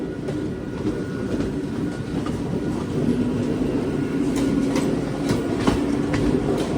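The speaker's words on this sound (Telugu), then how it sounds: "ప్యాసింజర్ ట్రైన్ మన ట్రైన్ ఓవర్టేక్ చేసి వెళ్తుంది" A train rolls along nearby with a steady rumble and clickety-clack, while a passenger train runs alongside and overtakes it, no voices heard.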